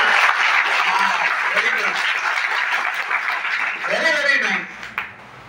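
A college hall audience at a budget analysis talk applauds in a dense, sustained burst of clapping that fades out near the end, followed by a brief voice.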